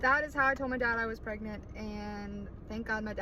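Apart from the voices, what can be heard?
No everyday noise stands out behind the speech.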